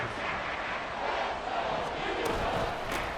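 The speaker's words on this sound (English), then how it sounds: "this crowd trying to force a false start here" A simulated stadium crowd in the Madden NFL 24 video game roars loudly to try to force a false start, a dense, sustained wash of crowd noise with brief sharper bursts and no clear talk.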